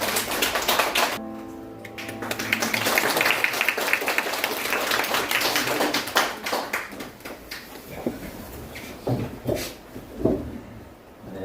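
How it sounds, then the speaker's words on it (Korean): A church congregation at a New Year Sunday worship service claps to welcome three women stepping up to perform a special song, with scattered, uneven clapping that thins into a few isolated claps and murmurs near the end. "박수로 나오실 때 우리 박수로 환영하도록 하겠습니다"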